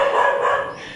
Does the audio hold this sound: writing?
no